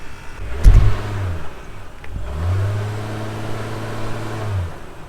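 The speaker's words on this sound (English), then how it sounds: "get a driving sound of this stock exhaust system, which when Ira pulled up, it is so quiet" An Acura MDX Type S engine with its stock exhaust revs up sharply, then settles into a steady, low drone that fades out. The exhaust note stays fairly subdued and smooth.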